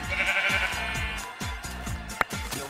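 A sheep in the video game Minecraft bleats in a drawn-out call near the start, over rhythmic in-game footsteps and a sharp click near the end.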